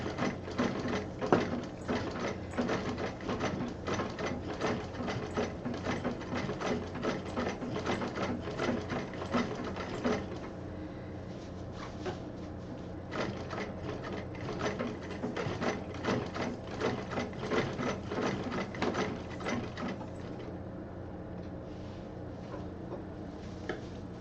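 A sewing machine stitches a stool cover in a steady, fast mechanical clatter that runs in long bursts with brief pauses, close and moderately quiet.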